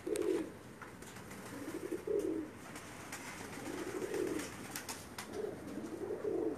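A Pakistani pigeon on a rooftop loft coos in repeated soft, low phrases, about five gurgling bursts spaced a second or so apart, over a faint background hiss.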